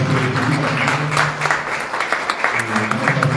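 Audience at a Guarani language and culture tribute event clapping in a sustained burst of applause, fairly close and steady throughout, with a few voices mixed in underneath.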